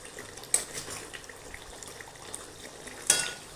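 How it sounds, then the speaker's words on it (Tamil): Tamarind paste (pulikaichal) boils in a pan with a faint, steady bubbling hiss, broken by two soft pops. "இப்போ புளிக்காய்ச்சல் கொதிச்சிட்டு இருக்குது"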